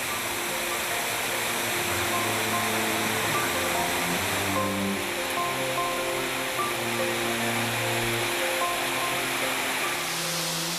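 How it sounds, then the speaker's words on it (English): A multi-tiered waterfall in Arkansas, heard as a steady, dense roar of falling water that holds constant throughout, close and loud with no voices. "Tell us, Eric, what do you enjoy about taking people to waterfalls like you did us here to this one?"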